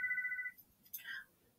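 A phone ringtone chirps for a brief tone, then a short electronic trill follows, fairly faint and with no talk over it.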